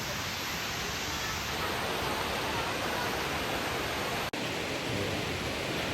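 A waterfall at Bongabon pours in a constant, dense roar that fills the whole stretch, with one brief dropout near the end.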